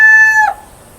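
A rooster with a pea comb, kept as breeding stock, crows once, loud and close, the call ending abruptly partway through the clip.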